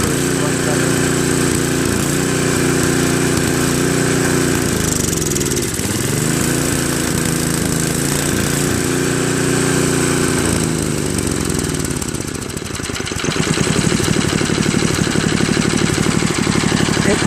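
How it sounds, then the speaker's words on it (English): A Craftsman snow blower with a Tecumseh engine runs steadily on choke, a loud close droning mechanical roar that dips briefly and then picks up a rougher, harder-working tone near the end, with talking over it. "It runs on full choke. Then we put it 3/4, it runs better."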